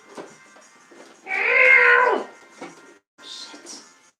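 A house cat gives a single loud, drawn-out meow in the middle, with a person's quiet calls and small household noises around it.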